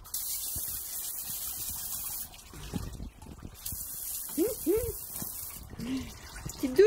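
Broad hissing spray of water runs steadily, with brief gaps, while a dog yips and whines in short bursts nearby.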